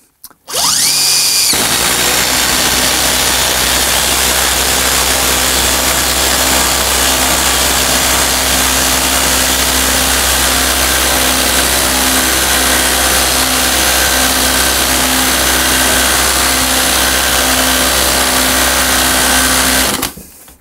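A corded impact driver with an analog speed-control wheel runs flat out at full speed, giving a loud, steady, high-pitched mechanical whine that holds for about twenty seconds before stopping abruptly, with no talking.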